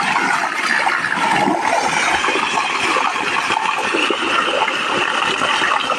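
Water gushing steadily from a 70-foot open-well solar pump, an AC/DC hybrid model running on a weak sunlit panel, a continuous broadband splashing rush that stays loud and even throughout.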